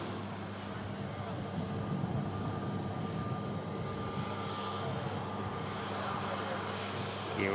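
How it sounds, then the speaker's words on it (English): A Ryanair airliner rotates early on takeoff from the second runway, its engines a loud, steady broadband roar throughout, with a voice speaking over it at times. "Ryanair rotates. Fairly early rotation there from the second runway."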